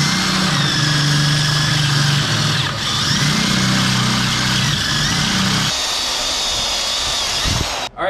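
A power drill bores a pilot hole into the metal frame of a 5x8 utility trailer, a loud sustained whine with steady motor hum for about six seconds before the bit stops and the sound drops away.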